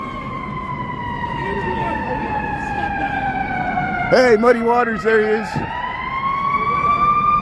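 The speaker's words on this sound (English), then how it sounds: "There's the ambulance going south on Wabash." An ambulance siren wails in long, steady tones, sounding close and loud, on a Chicago downtown street, while someone talks over it briefly in the middle.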